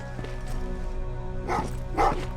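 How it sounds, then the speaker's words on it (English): Dogs barking in the video game Terminator: Resistance, two short barks sounding over a steady hum of ambient background noise. "Oh, what's with the dogs?"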